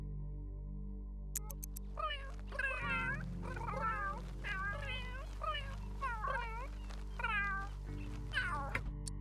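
Cats in The Sims 3 video game meow repeatedly in a lively, overlapping series of clear, mid-pitched calls over a steady low game hum, with no talking.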